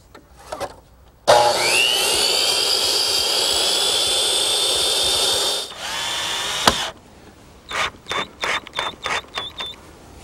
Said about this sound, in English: I'm cutting right out here on the job site with my sliding compound miter box.